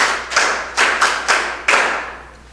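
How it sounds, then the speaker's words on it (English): An audience at a school quiz competition claps in short bursts, four or five distinct rounds of close, loud hand claps with brief gaps between them. "A round of applause for him."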